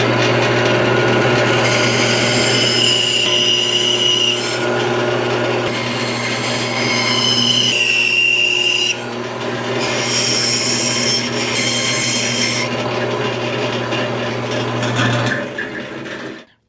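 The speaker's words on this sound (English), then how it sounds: "we're going to go over to the bandsaw and cut that part off right there." A bandsaw cuts through a drilled wooden part for a Valentine's Day woodworking project, giving a steady, loud whirring drone with a higher whine rising as the blade bites, running continuously for about fifteen seconds before winding down.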